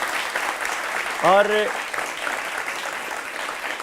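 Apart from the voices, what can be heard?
audience applause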